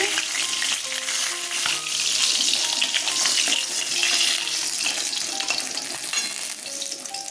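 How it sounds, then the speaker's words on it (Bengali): Bata fish frying in hot oil in a pan, a steady, loud, crackling sizzle with dense spitting that continues without a break throughout. "দেখুন সব মাছ ভাজা হয়ে গেছে"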